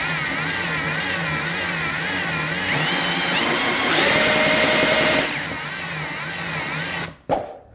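A power drill whirs steadily while turning an air conditioning compressor, its pitch wavering and rising before winding down, ending with a sharp clunk.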